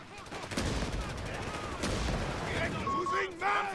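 Machine gun fire in a tank strategy game rattles in rapid bursts at moderate volume, mixed with other battle noise and faint tonal game sounds.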